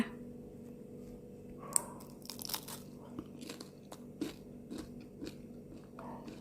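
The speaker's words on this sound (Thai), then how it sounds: "แผ่นแป้งตรงที่โดนน้ำมันเกลียมๆก็จะมีความกรุบกรอบค่ะ" Crunchy bites and chewing of a pan-fried vegetarian quesadilla with a crisp, oil-browned tortilla, a few sharp crunches followed by softer mastication, close and alone without talk.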